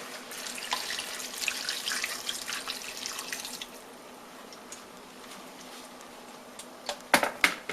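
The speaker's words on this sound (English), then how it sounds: "top the rest of it off with water, just enough that it covers the butternut squash" Tap water runs into a pot of chopped butternut squash with chicken stock, a close, steady splashing stream that eases off midway, followed by a few sharp clinks near the end.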